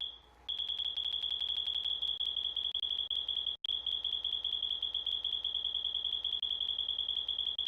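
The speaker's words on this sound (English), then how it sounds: "Is that the fire alarm beep?" A smoke alarm emits a steady high-pitched beeping tone for several seconds, loud and continuous with one brief gap midway, no talking over it.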